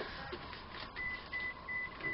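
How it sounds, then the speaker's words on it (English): A phone alert goes off in a quiet crafting room, giving four short, evenly spaced high beeps over a soft steady background hiss. "Sorry, phone's going off."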